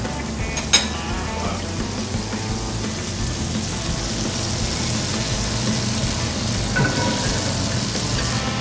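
Butter sizzles and fizzes in a pan as the base for a French cream pepper sauce served with ribeye steak. The frying hiss is steady and continuous, with a brief sharp tick near the start and no voices.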